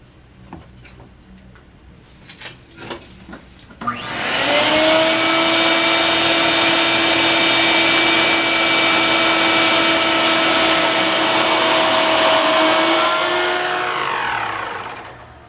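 A router whines up to full speed and holds a steady, loud, harmonic-rich cutting tone for about ten seconds while cutting a groove in a round window sash, then spins down at the end. A few clicks and knocks come before it.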